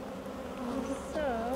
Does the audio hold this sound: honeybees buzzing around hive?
yes